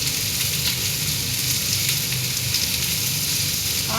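Garlic, ginger and a chili sizzle steadily in hot oil in a pan, a loud, constant frying hiss with small crackles close up and no talking.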